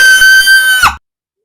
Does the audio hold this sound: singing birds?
no